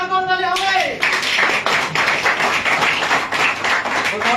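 An audience breaks into loud, dense applause close by, the clapping sustained and even after a brief voice at the start.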